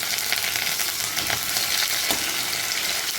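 Green chillies and curry leaves frying in hot oil for lemon sevai, a steady dense sizzle close by with faint stirring scrapes, no talk over it.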